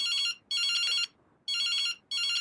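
A phone ringtone plays in a TV advertisement: a bright electronic ring in steady bursts separated by short gaps, loud and alone.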